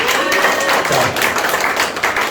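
A church congregation claps together in a loud burst of applause that fills the room, dense and steady throughout with a faint voice briefly underneath.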